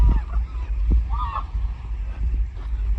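Birds call out loudly with harsh, honking cries over a steady low wind rumble, one longer call standing out in the middle.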